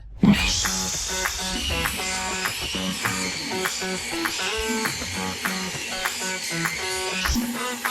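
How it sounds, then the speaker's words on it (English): A saw cuts through warped treated lumber inside a small off-grid cabin sauna, its motor buzzing steadily and close for about seven seconds, bogging and surging in a repeating rhythm as it struggles through the wood. "this treated wood is all warped and the saw does not like it"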